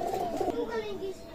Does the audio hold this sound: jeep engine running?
no